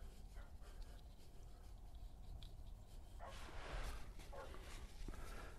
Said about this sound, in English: some dogs barking at me.